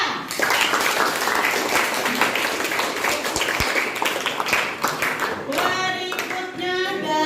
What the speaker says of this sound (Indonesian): Yuk, kita beri aplaus untuk kelompoknya Mbak Swita.